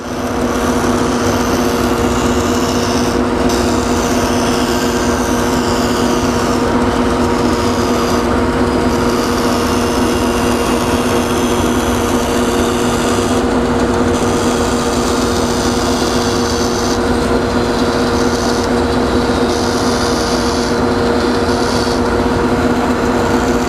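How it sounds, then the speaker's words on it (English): A bandsaw cuts a profile through a top piece of MDF for a Maloof-style bar stool rear leg jig, a steady loud motor hum with a constant blade whine running throughout with no one talking. "take this top piece of MDF and cut out this profile on the bandsaw"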